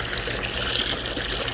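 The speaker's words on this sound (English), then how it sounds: "I'm gonna start adding some water into each one of these bags" Water being poured into bags meant for stingrays. The flow is a steady, fairly loud rush and trickle that runs without a break and has no talk over it.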